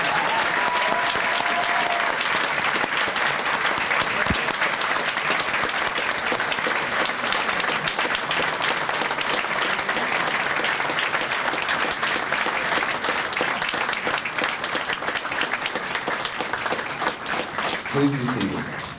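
A large audience at a retirement ceremony applauds the retirees in one long, dense, steady roar of clapping that holds its level throughout, with crowd noise mixed in and a brief low sound near the end.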